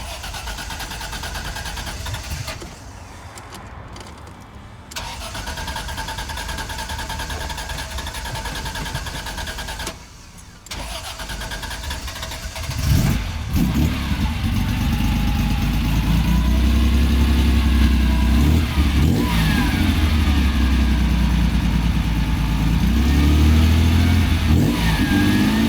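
A Ferrari Dino V6 with equal-length headers and three two-barrel carburetors cranks, catches and starts, settling into a rumbling idle before loud revving blips, close to the microphone.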